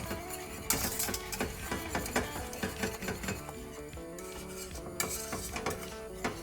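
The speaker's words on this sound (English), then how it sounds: "At this stage, keep stirring." Vegan sour cream is stirred in a pot as it thickens, giving repeated scraping and clinking strokes of utensil against metal at an uneven rhythm, fairly quiet.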